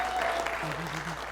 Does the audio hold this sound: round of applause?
yes